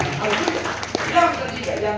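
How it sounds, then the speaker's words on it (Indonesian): A church congregation at an all-night prayer service applauds, with scattered clapping running beneath a preacher's continuing speech and background music. "Tepuk tangan yang paling meriah."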